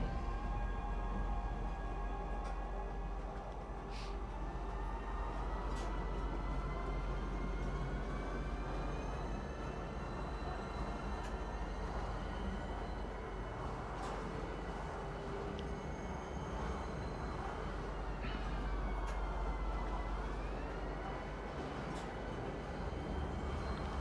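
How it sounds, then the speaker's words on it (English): A train pulls into a station platform in the space game Star Citizen, a steady loud rumble with rising and falling whine tones as it arrives, with no talking. "Step away from the platform edge when train is approaching. There is our train"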